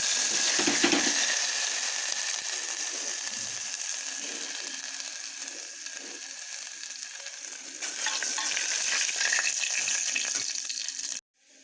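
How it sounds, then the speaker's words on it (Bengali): Cumin seeds and dried chillies sizzle steadily in hot oil as asafoetida is added, a close, bright crackling fry with some stirring that stops abruptly at the end. "জিরে আর শুকনা লঙ্কা বেশ ভালো করে লাল হয়ে গেছে এরপরে এর মধ্যে দিব হিং"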